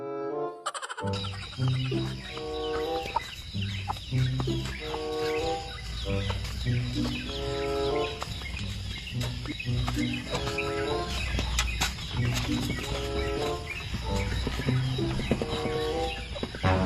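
A chicken clucking repeatedly in short rhythmic bursts at a birthday gathering, loud and close, with other fowl-like calls and background noise and no talk.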